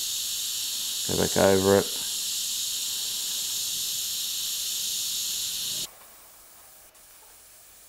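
Airbrush spraying paint, a steady close hiss that runs continuously then cuts off abruptly near the end; someone briefly talks over it early on.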